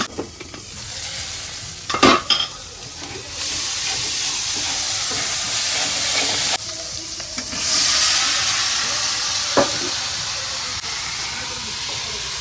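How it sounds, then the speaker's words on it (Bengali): Spice masala is stir-fried in a pan, loud continuous sizzling and steamy hissing close by, broken by a few sharp scraping knocks of the spoon against the pan, without speech. "এখন ঢাকা দিয়ে মশলাটা একটু কষায় নেব।"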